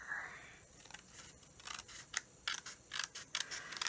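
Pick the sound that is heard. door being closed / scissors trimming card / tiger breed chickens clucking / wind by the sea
scissors trimming card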